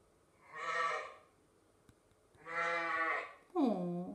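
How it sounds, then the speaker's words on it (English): Two drawn-out sheep bleats, close and clear, followed by a third shorter, higher bleat, with quiet pauses between. "Oh, a sheep."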